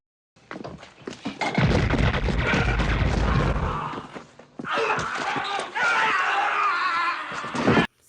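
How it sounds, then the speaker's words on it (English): Gunfire in the 1991 action movie Timebomb: loud, dense booming bursts of shots fill the first half, then further sharp cracks and impacts mixed with screams and shouting voices. "let's listen to some of these badass guns."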